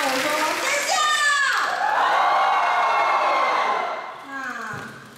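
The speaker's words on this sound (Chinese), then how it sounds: "那我说尖叫。" A young crowd at a university freshman welcome event screams and cheers loudly in high-pitched shrieks that hold for several seconds and then fade. A voice speaks at the start and again at the end.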